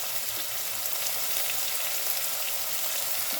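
Spring onion stalks, dried red chillies, green chillies and curry leaves fry in oil in a pan with a continuous close hiss and crackle. The sizzle stays loud and even throughout, and no voice is heard over it.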